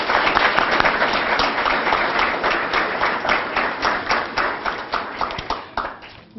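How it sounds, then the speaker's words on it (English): A crowd applauds children at an awards ceremony with steady, dense clapping throughout that thins into more distinct individual claps toward the end. "let's give them all a round of applause one more time."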